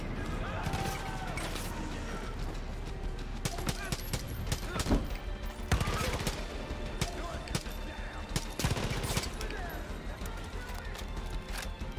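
Gunfire in the video game Far Cry 5, dense and chaotic with crashes and impacts in a continuous loud mix, with someone talking over it.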